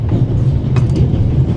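Train in the video game The Ravel rolls along the rails with a loud, continuous low rumble and faint rhythmic clatter, steady throughout and without voices.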